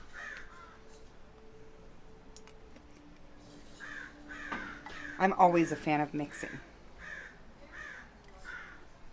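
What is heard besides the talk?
crows cawing outdoors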